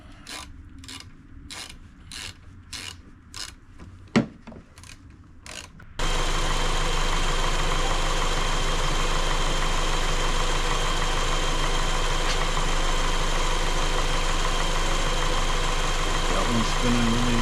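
Replacement windshield wiper motors on a 2015 Ford Escape SE: a rapid, even train of mechanical clicks for several seconds, then a loud, steady whirring drone that runs on without a break.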